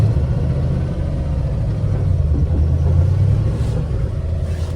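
V8-swapped Mercedes 240D driving and drifting, a loud, steady low engine rumble with a deep throaty drone that holds on without a break.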